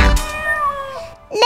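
A cat's meow rendered within a children's nursery song, a single drawn-out meow followed by the start of another, loud and close over light music; likely a voice imitating the cat.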